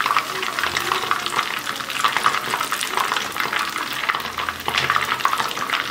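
Chicken 65 pieces deep fry in oil with a loud, dense bubbling sizzle heard up close, joined by occasional stirring sounds as the pieces are moved. The sizzle holds steady throughout and no one speaks.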